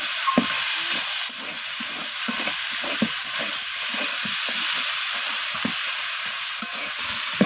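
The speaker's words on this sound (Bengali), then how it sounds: "সমস্ত কিছু একটু কষিয়ে নিতে হবে।" A bhetki fish head fried with spices in oil for a Bengali chorchori crackles loudly and steadily, with a spatula scraping and knocking against the pan in a regular rhythm; no talk.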